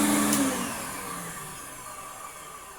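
An Electrolux Twin Turbo Z522 vacuum cleaner runs with a steady, fairly quiet motor whine and airflow hiss, holding a constant drone that eases slightly toward the end with no talking.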